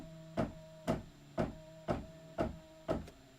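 Embroidery machine stitching a quilt border, giving six evenly spaced needle strokes about half a second apart over a steady motor hum, close and alone.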